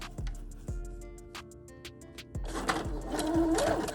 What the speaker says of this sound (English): Now I'm just gonna straight stitch this all the way around.